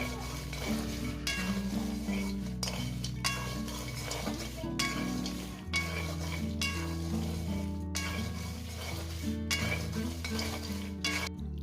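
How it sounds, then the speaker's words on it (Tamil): Jackfruit laddu mixture dry roasting in a pan, stirred continuously with a spoon scraping and clinking against the metal, a steady close, busy texture with soft sizzling and no talk. "இதை நான் நல்லா வறுத்து எடுக்கிறேன்."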